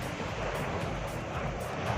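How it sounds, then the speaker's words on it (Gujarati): Sea waves wash steadily onto the shore at Madhupur beach in the early morning, a continuous broad roar with gentle surges and no voices. "જો અટાણે આપણે માધુપુર દરિયા કિનારે છે"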